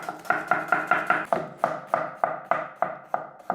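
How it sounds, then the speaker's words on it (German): Knife chopping onions on a cutting board, about a dozen crisp, evenly spaced strokes in a steady rhythm, close and clear with no voices. "Zuerst schneide ich meine Zwiebeln."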